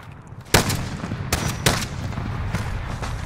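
Loud gunshots from a Rytek sniper rifle and other weapons in Call of Duty: Modern Warfare crack in a sharp sequence of three or four reports over a constant background of game noise.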